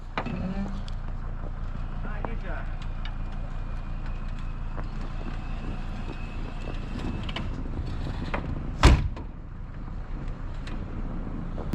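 A 1972 VW bus rolls along with engine rumble and wind buffeting while people talk, then its door is pushed open in a single sharp, close clunk near the end.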